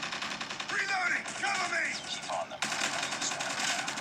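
Rapid gunfire in Call of Duty Mobile, a busy stream of shots and action noise with a speaking voice partly layered over it, turning denser after a sharp break midway.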